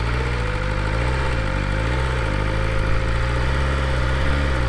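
A 2025 BMW S1000RR sport motorcycle's engine drones low and steady close by, with a slight wavering pulse as the bike moves off slowly. No voices are heard.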